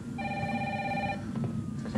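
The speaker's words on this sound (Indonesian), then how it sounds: "Apa itu ada telepon?" A telephone rings inside the Resident Evil 3 Remake video game, giving a steady bell-like trill that lasts about a second over a low ambient background hum before it cuts off.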